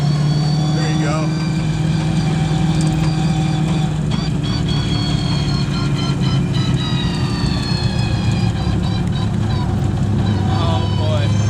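The 1000 hp 1965 Ford Mustang's engine drones steadily from inside the car while riding along, a constant rumble with a whining harmonic tone and faint voices over it.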